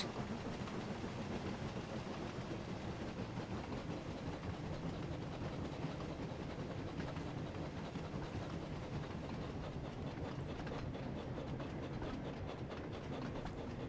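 A train in the Thomas & Friends: Wonders of Sodor game cruises over a bridge at about 40 mph, a steady dense rumble with rhythmic clickety-clack of wheels, continuous and even throughout.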